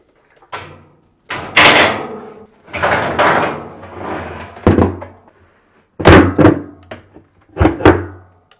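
A Samsung washer tub is lifted and set back onto the clutch assembly during a repair, producing a series of hollow plastic thuds, bumps and scrapes in separate bursts, close and fairly loud.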